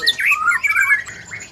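A white-rumped shama (murai batu) songbird gives a short, bright burst of varied whistled and squawking notes, clear and close, with nothing else around it.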